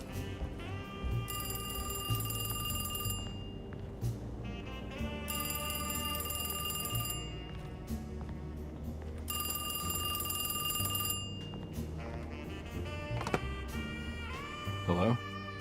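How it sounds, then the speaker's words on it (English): A telephone rings in Alone in the Dark, a bright electronic trill repeating in about three long bursts with pauses between, fairly clear against low ambient game music. "Sounds like there's a phone ringing."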